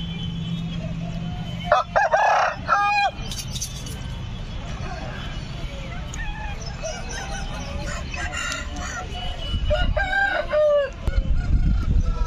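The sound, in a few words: roosters crowing at a chicken market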